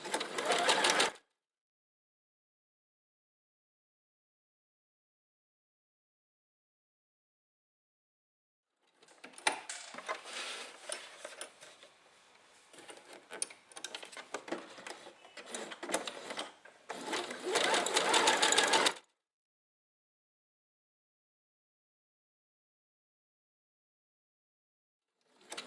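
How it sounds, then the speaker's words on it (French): A sewing machine runs a zigzag stitch in bursts: a brief whir at the start, a long rattling run of about ten seconds that speeds up toward the end, then quiet and a short restart. "Je tire un peu le fil derrière. Et je continue à coudre"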